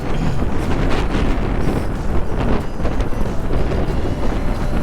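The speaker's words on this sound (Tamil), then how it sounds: "காற்று பார்த்தீங்களா எவ்வளோ வேகமாக அடிக்குது பார்த்தீங்களா?" Strong wind roars into the microphone while a delivery motorbike rides along, a loud, continuous rushing buffet that covers the whole clip with no speech.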